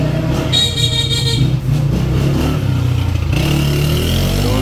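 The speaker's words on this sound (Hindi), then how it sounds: "लाहौर के जो लड़के हैं ना, कमाल तरीके से मोटरसाइकिल चलाते हैं" Motorcycles and cars pass by on a busy Lahore street, engines droning and revving close by, with a short horn toot amid the steady, loud traffic noise.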